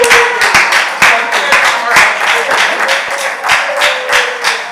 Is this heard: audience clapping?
yes